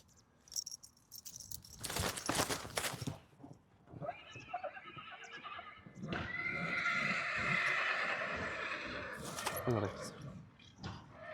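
A horse whinnies loudly in two bursts, then gives a long, drawn-out neigh, with hoof clops and faint outdoor noise between calls.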